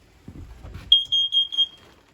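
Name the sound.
carbon monoxide alarm being tested in an RV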